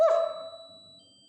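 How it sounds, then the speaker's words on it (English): A single electronic beep from an anti-bark dog collar, a clear close tone that sounds briefly and then fades. "the louder it goes, the longer the beep goes"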